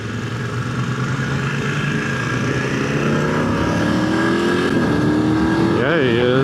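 An engine accelerates hard during an impromptu street race between a car and a motorcycle, a loud continuous roar over wind noise with the pitch climbing toward the end.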